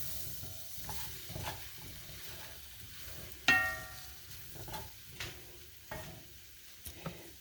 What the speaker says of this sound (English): Keep stirring it. Stir it all up.